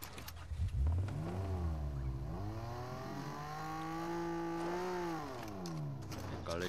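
A Fortnite car engine revs up and down in long rising and falling sweeps, mid-loud and close, holding a steady drone between revs.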